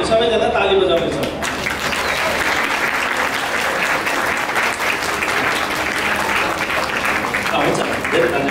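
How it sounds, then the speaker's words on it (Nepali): Guests at a Christian wedding in Nepal break into loud, sustained clapping. It starts just after a voice at the opening and continues as a dense, even roar of many hands throughout. "हामी सबैजना ताली बजाउनेछौँ।"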